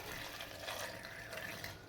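Half a cup of water poured in while making peach juice, a quiet, steady splashing pour lasting about two seconds.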